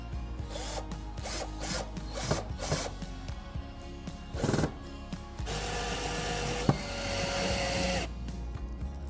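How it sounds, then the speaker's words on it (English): Screws are driven into a bathroom wall to mount a bath grab bar. Scraping and rubbing bursts come first, then a sustained, close whirring drive with no talking. "We can go ahead and get the next screws in."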